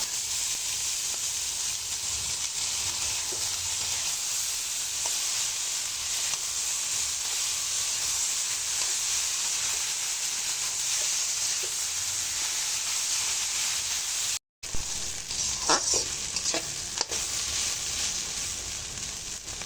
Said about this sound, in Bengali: এবারে ভাপানো মোচাটা দিয়ে দেবো